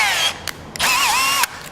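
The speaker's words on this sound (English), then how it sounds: "what I'm supposed to do first is drill out those holes" A power drill bores holes in a Taco Garage dash mount for a Toyota Tacoma TRD Pro. It comes in two loud, close whining bursts, the second longer and wavering in pitch, with short gaps between them.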